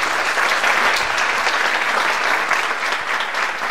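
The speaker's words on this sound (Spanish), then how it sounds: "recibamos con un fuerte aplauso al doctor Mario Antonio Ramírez" Steady, dense applause from a conference audience welcoming a doctor to the stage at a physical education and sport colloquium, loud and continuous throughout with no talking over it.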